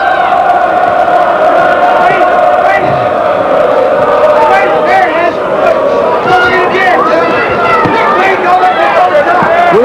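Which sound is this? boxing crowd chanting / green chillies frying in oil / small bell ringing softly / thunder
boxing crowd chanting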